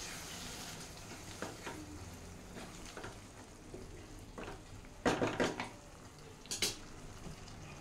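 Rajma curry is stirred in a pan with a utensil, giving soft scraping and clinking against the metal in a quiet kitchen, with a few sharper knocks near the end.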